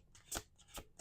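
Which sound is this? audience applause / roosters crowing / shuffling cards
shuffling cards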